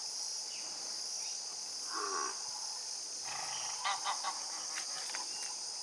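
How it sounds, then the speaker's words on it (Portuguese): Geese honk a few times at a distance, in short bursts, over a constant loud chorus of chirping crickets. "São gansos."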